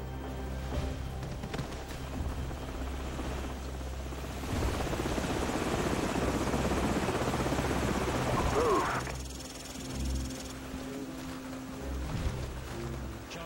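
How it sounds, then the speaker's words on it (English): Enemy helicopters in Call of Duty 4 give a loud, continuous rotor thrum with steady beating, close and dominant throughout, with game sounds layered over it. "Enemy helicopters."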